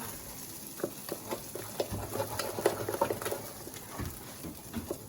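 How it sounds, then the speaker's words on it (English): Cheese being stirred into a sauce for a cheese soufflé, soft wet scraping and patter from a spoon in a pan, close and fairly quiet, with a low background hum. "Stir that in till it's all melted together."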